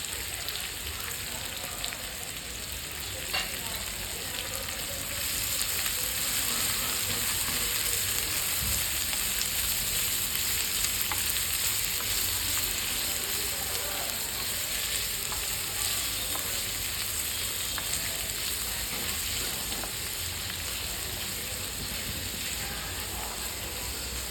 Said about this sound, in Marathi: आपल्याला हे कंटिन्यू हलवत राहायचं आहे, नाहीतर मग कांदा फक्त एकाच ठिकाणून काळा होतो.